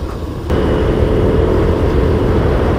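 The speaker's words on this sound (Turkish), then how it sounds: "iki pervaneli helikopter yukarıda uçuyor, su taşıyor" Twin-rotor firefighting helicopter carrying water over a fire in Karşıyaka, İzmir, heard as a loud, steady engine and rotor drone that swells after a moment and holds without a break.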